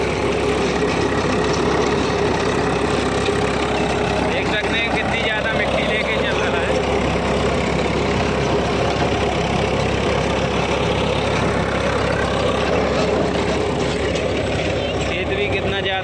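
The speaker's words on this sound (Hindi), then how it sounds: "हमारे पिताजी ट्रैक्टर चला रहे हैं, देख सकते हैं कितनी ज़्यादा अच्छी खिंचाई कर रहा है" A Swraj 744 XT tractor engine drags a rotavator through a weedy, rough field, producing a constant loud, dense mechanical drone with no dips, close up, while someone talks over it.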